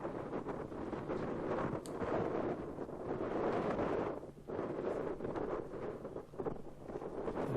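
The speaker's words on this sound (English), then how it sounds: "The wind actually becomes more of a crosswind at this point as it wraps around the hill." Wind blowing across a hillside disc golf course in Wyoming, a constant roaring rush of gusts buffeting the microphone, briefly easing before surging back.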